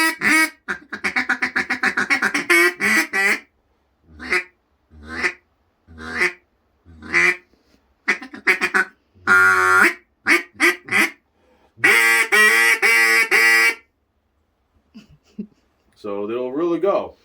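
A handmade wooden duck call blown in repeated bursts of nasal quacks, some rapid chattering runs and some single honks separated by short pauses, loud and close with no other sound.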